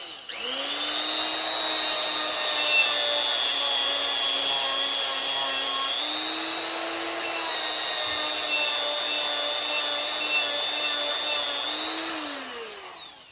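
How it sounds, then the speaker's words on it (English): A Dremel rotary tool fitted with a sanding drum grinds a CFMOTO clutch helix, giving a steady high-pitched whine that holds for about twelve seconds, briefly dips in pitch under load, then winds down at the end. "A Dremel with a sanding drum is what I use."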